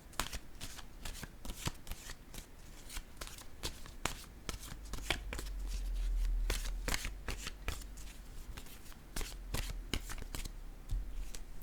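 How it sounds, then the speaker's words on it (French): A deck of cards is shuffled close by in a run of crisp, rapid riffling bursts with short pauses between them, over about twelve seconds. "Je vais piger une carte,"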